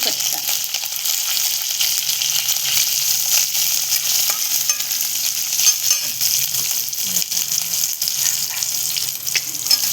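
Curry leaves sizzling in hot oil for Marathi pithla, a steady close crackling fry with no talk over it.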